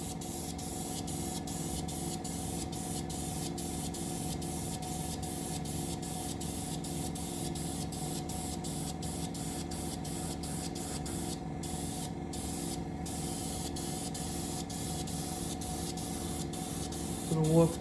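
An airbrush or spray gun lays a light dust coat of paint on a model submarine of a Russian Navy Project 955 Dolgoruky, producing a steady continuous hiss under a faint regular clicking.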